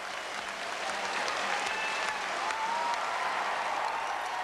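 A British tennis crowd applauds on court after a four-hour match, a dense, steady patter of many hands clapping that holds evenly loud from start to finish.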